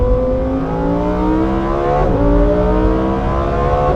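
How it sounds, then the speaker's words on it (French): A Lamborghini Huracan V10 engine holds a steady, loud note with layered harmonics, rising slightly as it's driven along at a brisk pace, continuous and close throughout with no talking. "Quel bonheur ce V10!"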